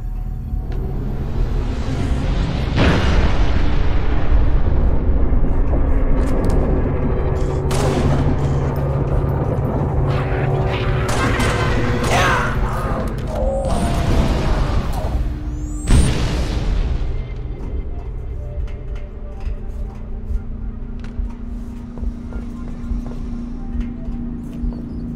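Artillery fire support explosions in the Halo: Reach video game, loud deep booms and rumbling blasts rolling one after another over a continuous low roar, with sharper crackling impacts in the middle and a fading rumble toward the end.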